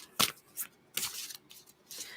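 Tarot cards riffled by hand in a few quick, close bursts with short pauses between, crisp papery flutters in a quiet room.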